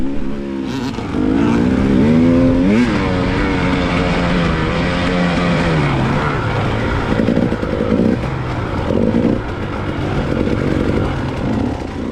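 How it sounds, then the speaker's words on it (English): A dirt bike in a hare scramble race revs loudly up close, its engine pitch climbing and dropping through gear changes as another rider's engine also drones nearby. "getting by me is Jeremy on bike 494, and he puts in a good run"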